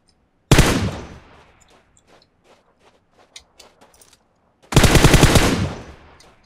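Two loud, close bursts of automatic machine gun fire in PUBG Mobile on the Miramar map, each lasting under a second to two seconds, separated by a quiet stretch with faint scattered clicks and footsteps.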